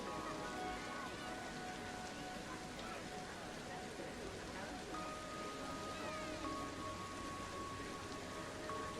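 Steady rain falls over a theme park in the game Planet Coaster 2, a constant soft hiss of drops at low level, with faint tonal park sounds and possible speech underneath.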